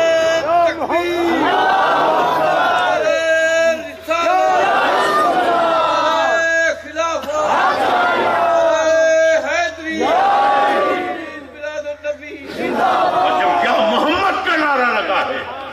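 A large crowd chants the religious slogan "Ya Muhammad" in rhythmic waves, loud and echoing, with several surges separated by brief lulls, mixing voices and sustained tones throughout.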